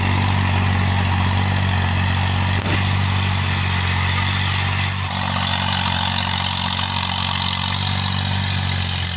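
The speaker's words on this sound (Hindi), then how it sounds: "कैसे ट्रैक्टर का यूज खेत को जुताई करने के लिए किया जा रहा है।" A tractor ploughing a field runs at a steady, loud engine drone, with a low rumble throughout and a slight shift in tone about halfway through.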